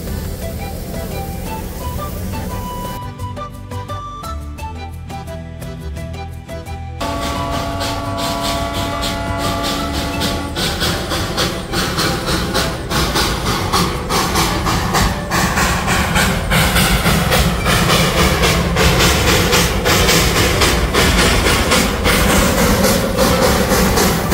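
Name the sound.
train standing at a station in Darjeeling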